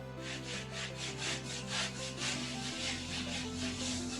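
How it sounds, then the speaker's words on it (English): A brush scrubbing grout stain remover into stone, with rhythmic back-and-forth scratching strokes, close and steady over a low background hum. "Give it a good scrub."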